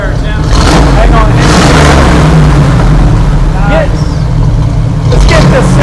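A 1969 Camaro Z11 Indy Pace Car with its original matching-numbers engine, heard from behind, runs with a loud, steady low rumble and swelling revs. People talk over it throughout.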